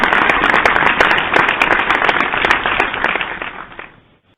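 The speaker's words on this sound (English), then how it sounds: "Thank you very much for that round of applause" An audience gives a round of applause for a podcast talk show, a dense burst of crackling claps that holds steady for several seconds and then quickly dies away.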